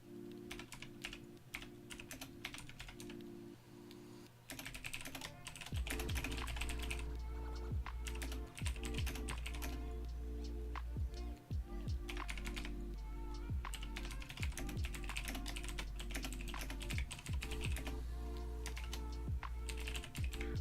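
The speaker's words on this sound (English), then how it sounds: "sorry for all the typing" Steady, close-up typing on a computer keyboard with rapid, continuous key clicks and occasional heavier keystrokes, running alone throughout over a constant low hum.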